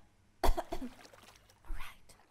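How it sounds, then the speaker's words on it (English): Two close coughs, a sharp one followed by a softer second about a second later, in a quiet setting. "Yeah, I got this cough."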